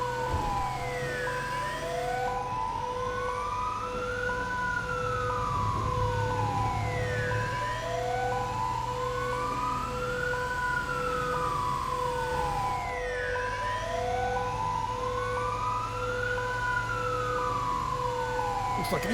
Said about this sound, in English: Go for a bit of dual siren action because we can.